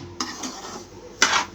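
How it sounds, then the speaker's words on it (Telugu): A spoon scrapes and clinks against a metal pan as semolina is stirred and roasted slowly, two distinct strokes, the second louder, close up with no talk. "నిదానంగా వేయించుకోవాలన్నమాట."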